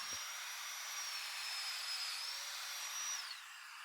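A Domino joiner bores into hard maple with a steady, loud whirring whine that holds for about three seconds before spinning down.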